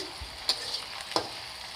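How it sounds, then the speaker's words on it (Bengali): Tomato pieces sizzle softly in a hot pan while a spatula stirs them, a steady frying hiss broken by a few sharp scraping clicks against the metal, with no voices. "কিছুক্ষণ নেড়ে চেড়ে টমেটোটাকেও ফ্রাই করে নিচ্ছি"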